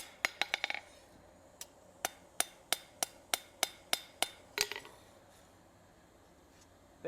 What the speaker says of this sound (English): Hammer that nice and straight.